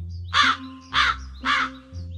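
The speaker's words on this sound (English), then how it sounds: "Yes, the crow is cawing." Three harsh, raspy caws from a crow in steady succession, loud and close, over a faint low background hum.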